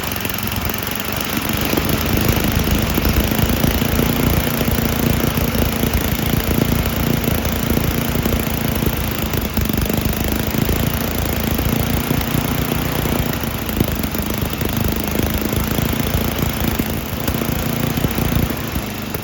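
An 8–10 horsepower Tecumseh snowblower engine runs loud and steady throughout, with a constant buzzing drone close to the listener and no pauses.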